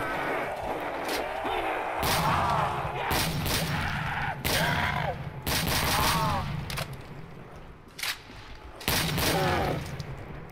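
Repeated gunshots ring out in a custom zombie game map on a stairway level, loud sharp bursts in irregular volleys with someone talking between and over them.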